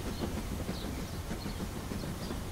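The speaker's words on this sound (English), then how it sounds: "Mr. Train is going up a ramp." A cartoon train climbs up a ramp, giving a continuous dense rumbling chug with no voices over it.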